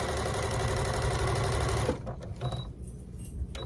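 Sewing machine stitching a quarter-inch seam along the edge of quilt fabric cut from recycled clothes, a steady close mechanical whir for about two seconds, then stopping, followed by faint fabric handling.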